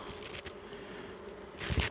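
Honeybees hum softly around a frame placed in a hive in mid-April, a faint continuous buzz with a few louder passes near the end and light rustling close by.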